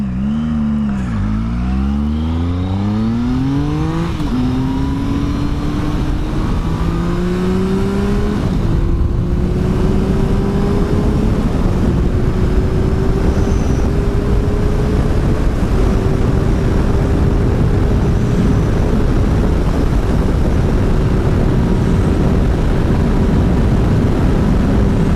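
A motorcycle accelerating hard on an open road during a speed run, its engine pitch climbing through several gear shifts into a sustained high whine under heavy wind roar, loud and close throughout.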